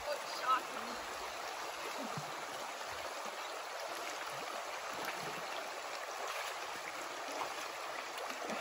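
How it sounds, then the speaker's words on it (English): Steady broadband rush of a cold stream at a wading crossing on the Appalachian Trail, continuous and fairly soft, with a brief splash near the start and faint voices mixed in. "The first water crossing on the AT."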